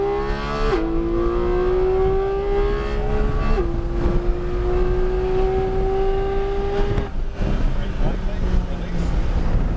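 A GT4-class race car accelerates on a track, its engine note climbing steadily with gear-change steps, loud and continuous throughout while a voice talks over it.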